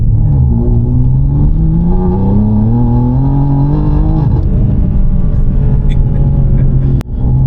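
A BMW G87 M2 with upgraded suspension on a road drive, its engine droning loud and close in cabin with gear-linked pitch climbing then dropping, steady road rumble and a brief thump near the end.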